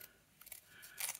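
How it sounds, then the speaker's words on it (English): Deckle-edged scissors snip through paper for a junk journal pocket, a few faint, quick crisp cuts close by in a quiet room. "I'm going to use my deckled scissors because I think that might be a bit easier."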